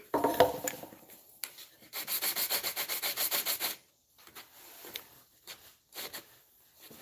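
Sandpaper is rubbed back and forth in a fast run of steady, rhythmic strokes lasting a couple of seconds, then a few shorter, softer passes, all close by.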